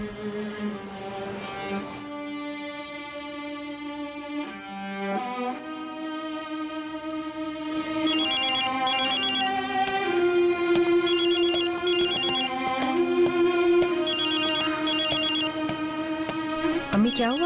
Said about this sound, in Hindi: फोन क्यों नहीं उठा रहे हैं आप?